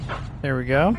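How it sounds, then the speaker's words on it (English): A dog gives a single short bark-like yelp, close and clear, with a man's brief remark just before it. "Apologize about the sudden barking."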